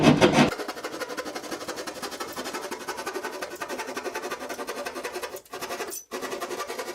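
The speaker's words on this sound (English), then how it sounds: "So now let's start cutting inside with a hole saw." A hole saw on a drill cuts through drywall, a close, steady grinding rasp with a rapid rhythmic chatter that cuts out briefly twice near the end.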